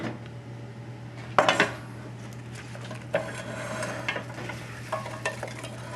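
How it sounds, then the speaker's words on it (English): Chopped ingredients tipped into a hot pan for a kosher mushroom-smothered roast chicken sauce, with a sharp clatter of utensil on pan, then a low frying sizzle and occasional stirring knocks close by. "Now into the pan, all of this, everything that we cut up."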